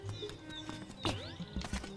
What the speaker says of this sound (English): the Moblins just straight up being pig noises is crazy